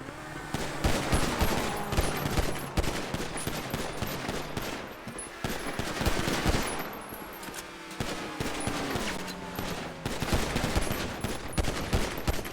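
Dense gunfire from the GTA Online adversary mode, pistols versus super cars: rapid overlapping shots and bursts crackle almost continuously, loud and busy, with game noise underneath.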